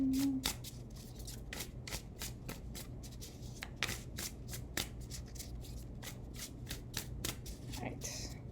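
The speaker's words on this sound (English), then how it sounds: "So this is how I like to shuffle. See, they're very easy to shuffle." Animal spirit oracle cards being shuffled by hand, a steady run of quick crisp riffling snaps close up, with a low constant hum underneath and a brief voice at the start.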